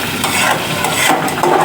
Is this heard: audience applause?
no